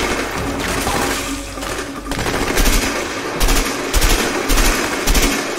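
Sustained automatic gunfire from a covering-fire sequence in the action game A Way Out, loud and dense with heavier bursts and impacts cutting through a continuous noisy battle din.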